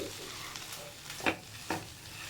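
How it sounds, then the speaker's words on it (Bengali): Semolina frying in a pan for Bihari-style mawa gujiya is stirred with a spoon, giving a soft steady sizzle and a couple of brief scraping strokes close by. "বেশ খানিক নাড়াচাড়া করতে করতে আমার সুজিটাও একটু ভাজা ভাজা হয়ে গেছে"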